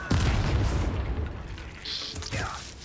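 A fire spell blasts in the video game Hogwarts Legacy, a heavy booming whoosh of flame up close, over game effects with a voice briefly heard.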